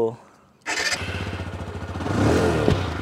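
A TVS Apache 160 2V motorcycle engine cranks to life via one-touch electric start after a brief quiet moment, then settles into a steady, throbbing idle that swells slightly louder near the end.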